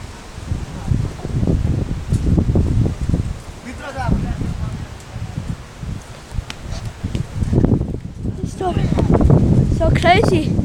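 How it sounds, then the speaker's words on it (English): Strong storm wind roars and gusts steadily with rustling foliage, loud and buffeting the microphone, while a person exclaims over it. "So windy."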